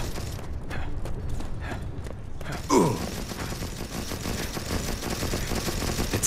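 Gunfire in the mobile first-person shooter Modern Combat 5, heard as dense, rapid automatic bursts that run steadily through the whole stretch, with one louder creaking sweep partway in.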